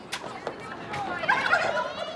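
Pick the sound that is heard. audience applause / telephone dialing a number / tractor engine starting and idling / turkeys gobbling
turkeys gobbling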